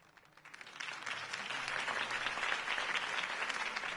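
A crowd applauding steadily, dense clapping that swells in the first half second and holds loud and sustained throughout.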